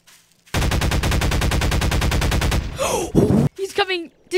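Sustained rapid automatic gunfire in a horror video game, a loud steady burst lasting about two seconds after a short quiet start, followed by a voice speaking.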